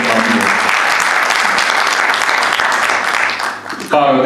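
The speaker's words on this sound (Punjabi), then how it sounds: "ਇੱਕ ਤਾੜੀ ਉਸ ਦੇ ਨਾਮ ਪਾਉਂਦੀ ਹੈ।" Loud, sustained applause from a conference audience at the Baba Guru Nanak Ji 4th International Conference, Punjab Institute of Language, filling the room for about four seconds before fading as a voice starts speaking.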